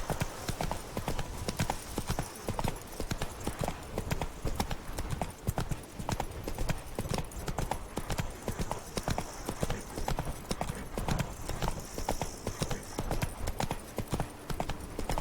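Geralt's horse Roach trots through the Toussaint countryside in The Witcher 3: Blood and Wine, hooves clip-clopping in a steady, loud, unbroken rhythm close by, with faint talk now and then.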